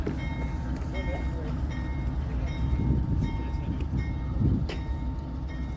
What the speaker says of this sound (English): there he was, NS62V building his train at the interchange.